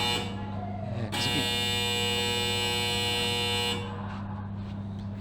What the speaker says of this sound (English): ignoring the beeps